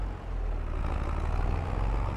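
A New Holland 5630 tractor stuck in a field, its engine droning low and heavy under strain in a steady, close rumble with no voices.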